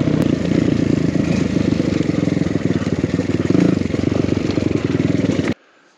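Dirt bike engine droning steadily on an enduro trail loop through Slab City, a loud close harmonic rumble with rattling clatter that holds for over five seconds and then cuts off abruptly.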